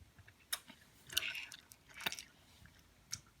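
A Harry Potter jelly bean chewed near the mic, soft wet squishes with a few sharper bursts spaced about a second apart, quiet overall.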